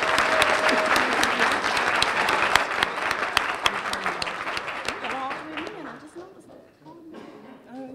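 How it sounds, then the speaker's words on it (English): Dinner audience applauding young people at an NAACP South Oakland event, a loud sustained round of clapping that thins out toward the end as voices begin talking. "Let's give our young people one more round of applause of encouragement."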